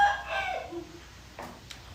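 A short, faded rooster call trails off, followed by a couple of faint chirps and clucks in a quiet outdoor setting.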